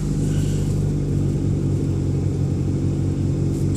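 A 1989 Geo Tracker engine runs steadily just after a cold start, a loud, close, continuous low rumble with a slightly uneven idle and no talking.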